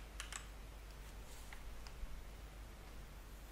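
Typing on a computer keyboard: a few quick, faint key clicks near the start and a couple of scattered taps after, then quiet hiss.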